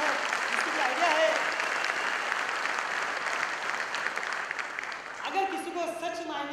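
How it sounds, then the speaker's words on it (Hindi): An audience at a motivational talk breaks into loud sustained clapping that continues steadily throughout, with a voice briefly audible near the end. "फास्ट ट्रैक के लिए मैं चाहूंगा एक जोरदार तालियां हो जाए"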